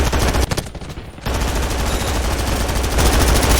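Sustained M249 machine gun fire in the video game Undawn: a rapid burst, a short pause, then a long unbroken stream of loud, dense automatic shots.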